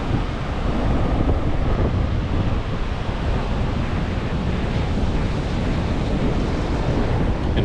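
Surf washing onto a remote, hard-to-reach beach on Kos, a steady continuous roar of breaking waves mixed with wind buffeting the microphone, loud and unbroken with no voices.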